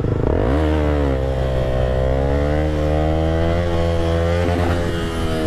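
Honda CBR motorcycle engine revving steadily and loudly in first gear while the rider lifts into a wheelie, a sustained close harmonic drone that rises slightly in pitch over several seconds, with no talk.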